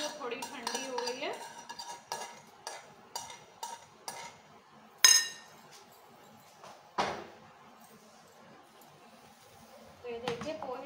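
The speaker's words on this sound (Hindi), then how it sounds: "इसमें हम तड़के को जो है मिक्स कर लेते हैं" Metal spoon scraping and clinking against a pan while mixing tempering into poha, in a series of short, close strokes, with a few louder knocks and quieter gaps between.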